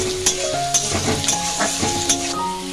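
Chopped capsicum fries in a pan for cauliflower manchurian with a loud, close, steady sizzle, punctuated by regular scraping and tapping of a spatula as it is stirred.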